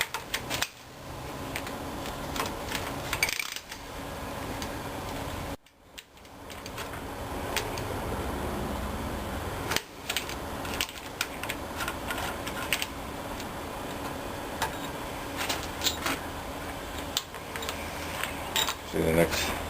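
A half-inch ratchet works loose the cylinder head bolts on a small block Chevy V8. It makes steady runs of close metallic clicking and ticking, broken by a few brief pauses, over a low background hum.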